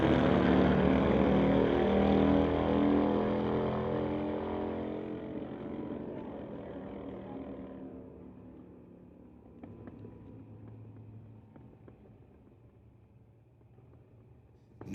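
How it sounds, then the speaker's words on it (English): A Harley-Davidson motorcycle on a street drag strip roars loudly nearby, then fades steadily into the distance over several seconds, leaving faint ambient noise with a few sharp ticks. "Sounds like Harleys to me"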